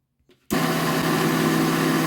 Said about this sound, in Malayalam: നമ്മളിതിനിട്ട് ഇനി ഇത് ബ്ലെൻഡ് ചെയ്തെടുക്കുന്നു